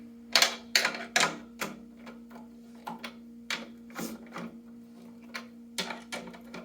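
Sharp marching snare drum taps struck in quick bursts and then singly, each with a bright rattly snap, as a Kevlar drumhead is tightened and tested between pauses.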